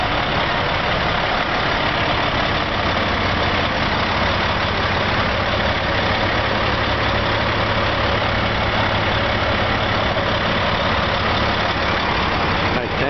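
Heavy truck engine idles at a show with truck lights, a steady low rumble throughout with broadband noise, loud and close.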